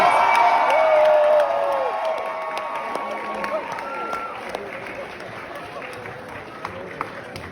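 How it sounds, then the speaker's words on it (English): Live audience at a Dave Chappelle master class at Ellington applauding and cheering for the comedian, loud crowd noise that swells early and then settles into sustained clapping with scattered whoops. "give it up for Dave for the Mark Twain crowd"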